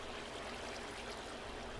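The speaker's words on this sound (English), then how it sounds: "There's ice blocks and water." Water flows steadily in the video game Minecraft near ice blocks, a faint continuous trickling wash with no break throughout.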